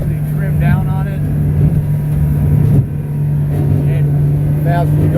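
A boat repowered with a Yamaha F115 outboard motor accelerating, a steady loud engine hum with a constant tone and rushing water, while someone talks throughout.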